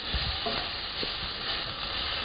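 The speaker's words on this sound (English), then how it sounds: "And now add your onions. We want to cook these down until they brown up but don't burn and soften." Onions browning in olive oil in a pan, a steady close sizzle with a few soft stirring knocks, continuous and fairly loud, with no talking.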